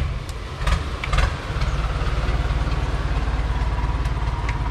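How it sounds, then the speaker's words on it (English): A tour boat engine chugs steadily nearby on a Thai waterway, a low rumbling drone with a few brief knocks early on. "We have tour boats going by all the time."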